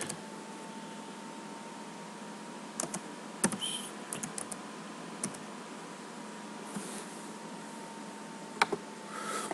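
Keyboard typing on a computer, sparse clusters of light clicks and taps over a faint steady hum, close and fairly quiet, with no voices.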